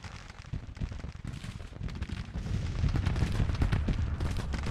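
Cannon and gunfire from a Civil War battle in the strategy game Grand Tactician, with a continuous rumble of distant booms and shots that grows louder and denser partway through, with no talking.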